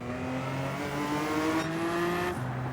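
A car engine in Gran Turismo 7 pulls out of the pits onto the track, a steady droning note climbing in pitch through the gears with a brief shift dip near the end, loud and without voices.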